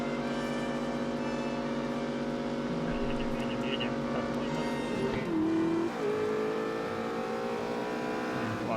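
A fast car's engine drives steadily in The Saboteur, a continuous droning hum that dips briefly as if shifting or easing off, then carries on at an even level.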